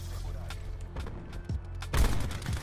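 Several sharp gunshots in Call of Duty: Black Ops 4, a scattered burst then a louder cluster of shots over a steady low rumble.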